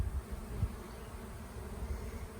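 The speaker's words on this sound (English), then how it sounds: "Now we got some bees at the entrance fanning." Honey bees fanning at the entrance of a hive box after a swarm was shaken in, a soft steady insect hum close by with no voices.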